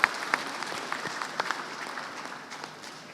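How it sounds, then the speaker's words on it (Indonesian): Applause at the opening of a plenary DPRD council session in Jabar, a moderate scattering of hand claps from the chamber that thins out over a few seconds, heard alone without speech. "Ya, tepuk tangan."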